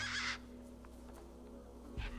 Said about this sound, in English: Those birds weren't going to let me anywhere near the back of the truck.